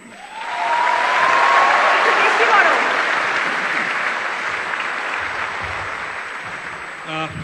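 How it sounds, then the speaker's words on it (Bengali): A large audience claps for the Bangladesh cricket team and captain Mashrafe at a Meril Prothom Alo awards ceremony; dense, loud applause swells after half a second, holds steady, then slowly thins toward the end. "আমরা অনেক বড় একটা তালি দিই"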